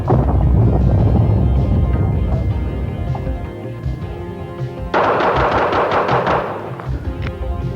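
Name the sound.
fast-draw revolver shots fired rapidly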